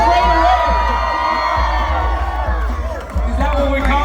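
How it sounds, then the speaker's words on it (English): A crowd cheering and shouting at the Viaduct Night Market pho noodle eating contest, loud and continuous hubbub with voices calling out throughout. "Clap it up, everybody."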